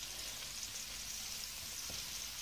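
Chopped onions sauté in melted butter in a home kitchen pan, giving off a soft, steady sizzle and hiss that continues evenly without pauses. No voices are heard.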